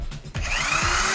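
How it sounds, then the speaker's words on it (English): A power drill spins an alternator with no electrical load. After a brief start-up it settles into a high, smooth, steady whine that runs close and loud to the end. "Listen to the drill when I turn it without giving it any power and without this producing any electricity."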